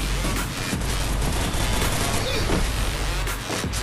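Dense, loud video game gunfire rattles almost without pause from an M762-style assault rifle and other guns, with bursts overlapping in a continuous fusillade while players talk.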